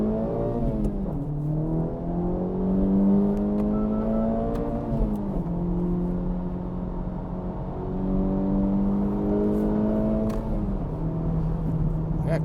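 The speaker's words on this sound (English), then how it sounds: "Yeah, car feels good." A lowered 2026 Acura Integra Type S on SWIFT springs drives along, heard from inside the cabin. The engine drones steadily and rises and falls in pitch through several gear changes over faint road noise.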